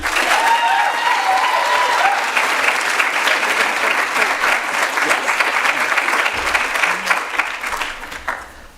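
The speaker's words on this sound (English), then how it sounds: "another round of applause for everyone" Sustained applause from the audience at an oratorical competition, a dense, steady wash of clapping that holds for several seconds before tapering off at the end.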